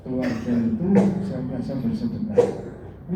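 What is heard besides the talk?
No everyday noises stand out.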